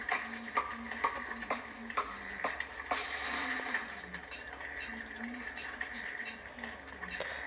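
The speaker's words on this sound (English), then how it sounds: "Chopping down a motherfucking tree" Repeated chopping on a tree in the video game Don't Starve gives a series of short, evenly spaced knocks and clicks, with a brief burst of game noise partway through, over faint background music.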